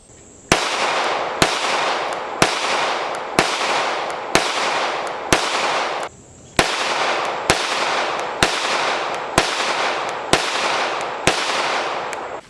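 A Canik METE pistol is fired in a steady series of loud, sharp shots about one per second, with a short break partway through; each report rings out with a long echoing tail.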